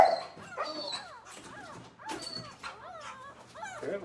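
A mother dog in a rescue kennel barks and yips repeatedly in a close, restless, high-pitched run, with whimpering tones between the barks and no talk over them.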